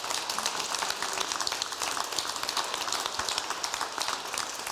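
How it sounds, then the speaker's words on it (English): Audience applause for gubernatorial candidates at a county candidate forum, a dense steady clatter of clapping filling the room and holding even and fairly loud throughout, with no speech over it. "let's give a big round of applause to our gubernatorial candidates"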